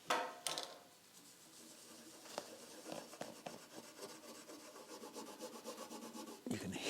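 Rough scraping and rubbing on a rusty chromed metal backrest support from a barn-find Triumph Rocket 3, a steady close abrasive rasp that builds over several seconds with a few sharper strokes.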